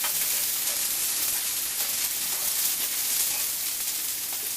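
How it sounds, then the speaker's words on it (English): Lentil stew with carrots, potato and mushrooms sizzles in a hot pot as it is stirred, a steady, fairly loud hiss that runs unbroken throughout with no talking. "Nice and hot. Stir it up, stir it up."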